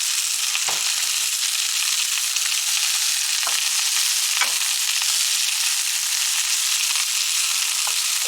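Thick slices of tomato fry in a hot pan alongside seasoned steaks, giving a loud, steady sizzle that runs unbroken throughout with a few brief crackles and no voices.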